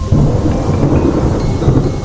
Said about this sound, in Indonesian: Hujan tak kunjung reda.